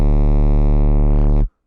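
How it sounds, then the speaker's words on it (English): A heavily distorted sine-wave bass synth patch in Vital holds one loud, buzzy, harmonically rich note for about a second and a half, then cuts off abruptly. "so really a high amount of distortion on the sine wave"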